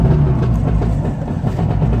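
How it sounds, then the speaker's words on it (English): A small motor on a Goggomobil limousine fires up after the key is turned with the choke on, settling into a steady, loud low rumble heard close inside the car with no talking. "We got fire from the little motor"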